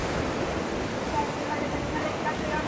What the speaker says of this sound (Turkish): Deniz nasıl dalgalı ya?